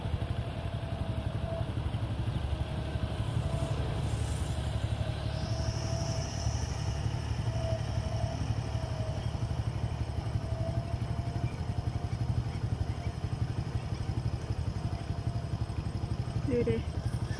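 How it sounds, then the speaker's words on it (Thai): A farm tractor working a rice paddy runs with a steady, low engine drone throughout, heard from a moderate distance and unchanging in level, with no clear talk over it. "รถไถกับนกกระยาง"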